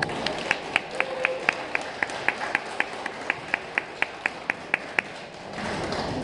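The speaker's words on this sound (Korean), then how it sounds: "박수 부탁드립니다." Wedding guests clap at the opening of a ceremony, a sparse, steady series of separate sharp claps about three per second, fairly quiet over a murmuring hall, then stopping near the end.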